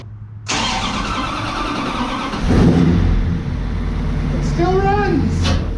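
Old vehicle engine firing up from cold, a sudden loud catch that settles into a rough rumble, rises in a revving surge, then keeps running with a rising-and-falling whine near the end while people talk over it.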